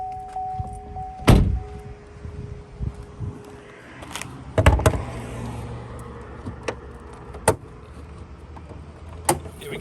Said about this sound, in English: Let's pop the bonnet